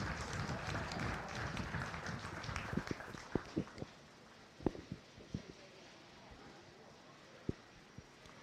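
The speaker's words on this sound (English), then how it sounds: "Let's give all three of those exhibitors a nice round of applause" Audience applause for three exhibitors at the Adams County Fair beef show, a soft burst of clapping at the start that thins into scattered claps and occasional thumps.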